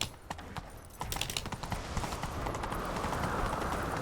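Horse hooves galloping in the open-world game The Witcher 3, a rapid drumming clip-clop that starts sparse, then surges into a dense, continuous rush of hoofbeats with gear rattle, close and loud throughout.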